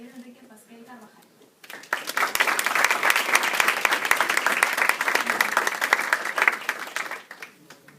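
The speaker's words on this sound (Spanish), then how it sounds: "Recibamos con fuertes aplausos" An audience at a concrete technology seminar breaks into sustained, dense applause to welcome a speaker, loud and close, after a few seconds of talk and before it fades out.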